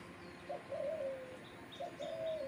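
Outdoor bird calls near a rooftop with birds perched on electric wires: two soft cooing calls, each about a second long, with faint high chirps between them in a quiet setting.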